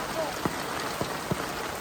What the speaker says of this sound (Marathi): किती जाम पाऊस पडतोय